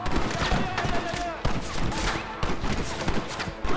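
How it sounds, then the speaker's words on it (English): A Gatling gun in the video game Red Dead Redemption fires loudly in continuous rapid bursts, a dense rattling stream with brief pauses and heavier thumps, mixed with game voices. "You may have a Gatling gun"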